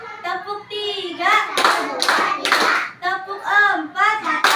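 Children's hands clapping in a counting game, bursts of close, sharp claps between a woman's lively speech, which runs through most of the clip.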